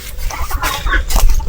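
Native chickens near a nest on a small farm give a series of close, irregular short clucks, loud and alone without any talking.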